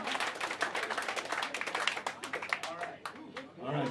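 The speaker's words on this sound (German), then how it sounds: "Applaus, aber locker." Audience in a Frankfurt jazz cellar club clapping in a loose, uneven burst, fairly close and soft, mixed with some talking and fading toward the end.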